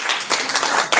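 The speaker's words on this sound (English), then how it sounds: "Please a round of applause." Audience clapping at the Mining Indaba conference in Cape Town, a short burst of applause that swells and dips, rising again at the end.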